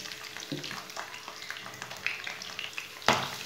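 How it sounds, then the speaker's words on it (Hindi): Finely chopped onion frying in oil with roasted cumin gives a faint, soft sizzle under light stirring, ending with a sharper clatter of onion hitting the pan. "बारीक कटा हुआ प्याज डाल लेंगे।"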